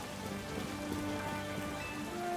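Steady rain falls in Pokémon Legends Z-A, a dense, even hiss of drops on surfaces that continues unbroken throughout with no talk.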